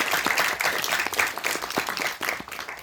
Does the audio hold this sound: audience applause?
yes